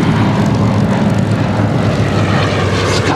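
A Douglas DC-3 Dakota propeller airliner at an air show roars past, its piston engines producing a loud, continuous, full-bodied drone that holds steady throughout.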